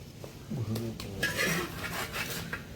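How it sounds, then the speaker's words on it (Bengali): A metal spatula scrapes and clinks against a hot griddle while flipping a meat pitha wrapped in sal leaves, a few brief scraping and tapping sounds close by, moderately loud. "এই যে এইভাবে চাটুটা ঢুকিয়ে এইভাবে ধরে পাল্টে নিলাম"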